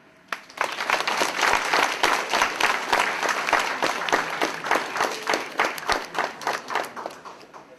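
Audience applause at a school assembly, starting after a brief pause and continuing as steady, dense clapping from many hands before thinning into separate claps near the end.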